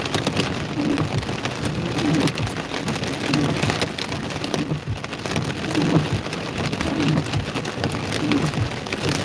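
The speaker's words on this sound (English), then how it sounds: "You can hear the hail." Light hail beginning to fall during a Central Texas thunderstorm, heard from inside a storm-chasing vehicle as a dense, steady patter of small stones under a broad rain-like roar, with no voices.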